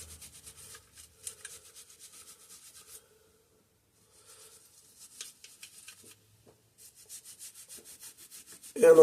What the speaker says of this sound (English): we're gonna get our little metal brush, little wire brush